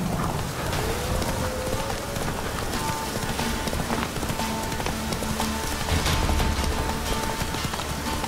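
Roach, a horse in The Witcher 3, trots with a steady, quick clip-clop of hooves over constant rain-like ambient noise, with faint tonal game sounds layered underneath.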